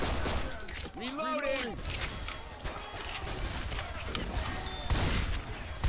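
Shotgun blasts in the Left 4 Dead zombie shooter, with melee shoves between shots to speed up reloading, sound as dense bursts of gunfire over heavy game noise and a voice.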